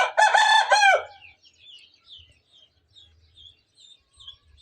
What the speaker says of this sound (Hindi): इसकी मुर्गी नीचे घूम रही है